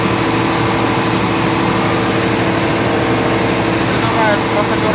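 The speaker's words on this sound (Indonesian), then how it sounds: "start generator." A Cummins QSM11 diesel generator serving as an auxiliary engine on a cargo ship runs as a loud, steady low drone with a constant hum and no pauses, filling the engine room throughout.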